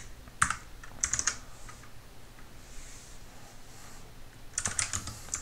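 Keystrokes on a computer keyboard while code is typed, a quick cluster of clicks near the start and another near the end, with a quiet gap between, close and moderately loud.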